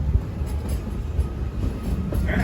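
Walt Disney World Railroad train rolling around the Magic Kingdom, a steady close rumble of wheels and running gear with faint clatter throughout, no voices.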